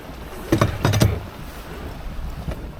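A sailboat in a flotilla making about six knots in a 13-knot wind, with water rushing and splashing against the hull in a few louder surges over steady wind noise.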